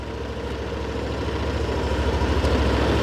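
A 2020 Yamaha Aerox 155 Connected scooter idles steadily right after starting, a continuous close engine rumble with no voices.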